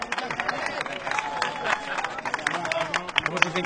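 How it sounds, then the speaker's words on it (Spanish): Audience applause and cheering at a farewell gathering, a dense crackle of clapping from a crowd with voices and babble mixed in, steady and lively throughout. "¡Fuerte aplauso para los cornudos!"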